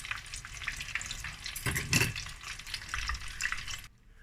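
Chicken tenders fry in a pan with a steady, close crackling sizzle throughout, swelling briefly in the middle as they are stirred, then cutting off abruptly just before the end; no one speaks.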